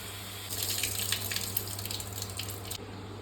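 Water is poured over goat blood in a pan to wash it, a close splashing gush lasting a couple of seconds before cutting off, with no talk.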